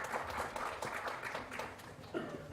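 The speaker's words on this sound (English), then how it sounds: "A big round of applause for sir" Soft, distant applause rises from the hall at the inaugural session of a sociology conference in New Delhi as a professor takes his seat on stage; a continuous, even patter of many hands.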